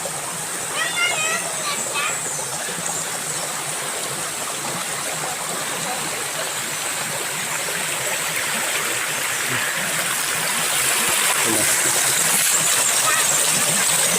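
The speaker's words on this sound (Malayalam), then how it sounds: "വെള്ളമൊഴുകി പോകുന്നത് കണ്ടു നിങ്ങൾ" Steady rushing water of a stream flows throughout, a continuous broadband wash with a few faint higher tones, growing slightly louder near the end.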